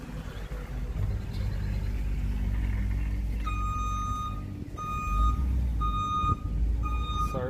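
An Amazon delivery truck reversing nearby sounds a regular series of high electronic beeps over a low engine rumble, close and fairly loud behind someone working on a Toyota Prius.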